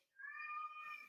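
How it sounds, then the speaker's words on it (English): A pet cat named Mars gives a single drawn-out meow, clear and tonal, rising then tapering off, quiet and alone. "And that was my cat Mars,"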